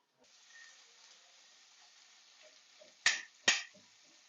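Onion frying in a little oil in a pan for a Maharashtrian wild-vegetable dish, a faint steady sizzle and hiss followed by two sharp louder crackles near the end.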